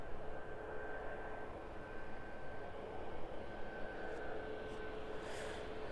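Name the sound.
aircraft landing at East Midlands Airport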